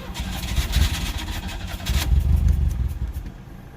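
A Pontiac Fiero engine running roughly on low, stale fuel, heard close up as a loud, uneven idle with a brief rev swell around the middle before it settles and quiets toward the end.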